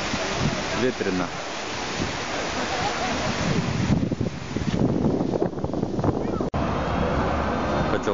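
Gusty wind roars and buffets the microphone in uneven surges, with a brief sharp knock near the end.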